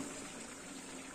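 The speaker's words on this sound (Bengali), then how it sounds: "আমি উষ্ণ গরম জল একটু বসিয়েছি, এটা একটু দিয়ে দেবো।" Warm water poured into a Bengali-style chicken and potato curry, a soft, steady, close pour lasting about a second.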